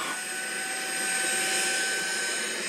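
A Tineco Pure One S15 Pet stick vacuum runs with its brush deliberately blocked, a steady close whine with a thin high tone that swells slightly partway through.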